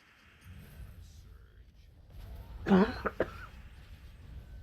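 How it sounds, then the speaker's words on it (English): One person coughs a couple of times at close range, a short rough burst standing out over a quiet background hum, with faint speech-like murmuring nearby. "Why am I coughing all of a sudden?"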